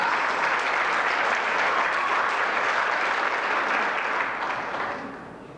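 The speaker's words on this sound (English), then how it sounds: "a big round of applause, everybody" Sustained round of applause from a crowd at a Super Late Model racing season banquet at Columbus Speedway, dense steady clapping that holds loud and then tapers slightly at the end.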